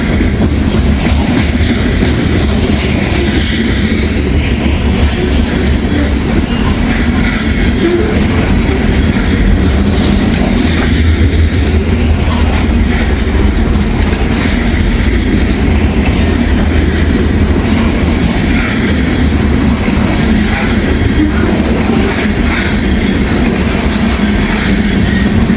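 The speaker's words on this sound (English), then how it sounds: "I love a loaded coal train." A loaded coal train rolls past up close, a loud steady roar of wagons with rhythmic clickety-clack from the wheels over the rails throughout, no talking.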